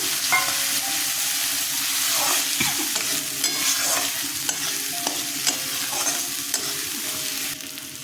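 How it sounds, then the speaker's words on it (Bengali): Garlic, ginger, onion and tomato fry in hot oil in a pan for a duck egg fritter and potato curry, a steady sizzle broken by repeated scrapes and clinks of a spoon stirring, close and continuous with no talking. "রসুন আদা পেঁয়াজটা কষিয়ে নিচ্ছি ভালো করে টমেটো দিয়ে দিলাম"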